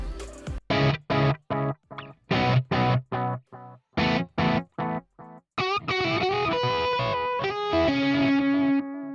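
Electric guitar through a Nux Trident multi-effect delay plays choppy, distorted chords in a quick rhythm, then sustained notes trail off with repeating echoes layered behind them.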